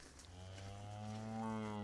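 A single cow gives a long, low moo that swells slightly and holds for nearly two seconds, quiet and somewhat distant, while cattle are being moved into yards on a farm.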